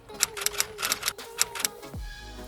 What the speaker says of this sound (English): type the name of the user